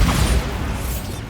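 Bombarda blasting spell in Hogwarts Legacy, a loud explosive boom at the start that rolls into a rumbling, crashing tail and slowly fades.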